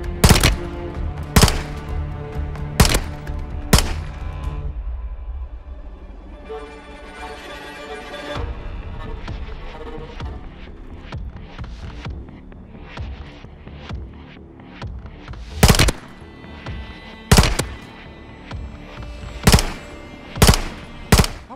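Loud, isolated gunshots from the Call of Duty: Modern Warfare 3 campaign crack out in sharp single reports, framing a stretch of lower rumbling, humming battle noise and scattered smaller shots.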